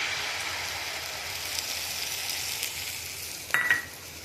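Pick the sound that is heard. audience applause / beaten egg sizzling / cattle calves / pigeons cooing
beaten egg sizzling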